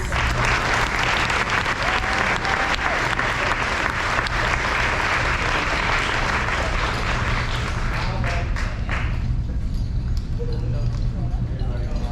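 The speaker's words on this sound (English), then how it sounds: "Let's give a round of applause." A large crowd applauds loudly and steadily for about nine seconds at a high school senior awards ceremony, then the clapping thins out and fades.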